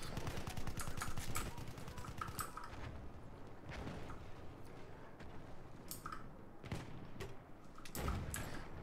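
Rapid gunfire from a weapon in the Battlefield 1 video game, sharp repeated shots in bursts across the clip, loud and close, with dense crackling reports and short pauses between volleys.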